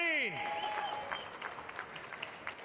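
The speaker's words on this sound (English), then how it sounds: "Ladies and gentlemen, one more round of applause for Crystal and Claudine." A panel audience at a comic convention claps for two combat performers, a soft, thin scatter of applause following a brief sweeping tone at the start, fairly quiet and distant throughout.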